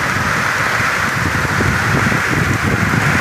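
Heavy rain driven by strong wind during a storm over farm fields, a steady dense roar of downpour with gusty wind rumble buffeting close by throughout, no voices.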